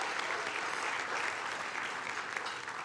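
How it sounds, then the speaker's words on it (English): An audience at an evening leadership celebration gives the event sponsors a dense, steady round of applause, full and continuous throughout. "Give me up a round of applause for all our sponsors this evening"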